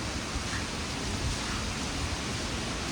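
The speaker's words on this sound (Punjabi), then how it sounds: "ਬਾਰਿਸ਼ ਬਹੁਤ ਤੇਜ਼ ਆ ਗਈ" Heavy rain pours down in a stormy, windy downpour, a dense steady hiss that fills the whole stretch without any break or talk.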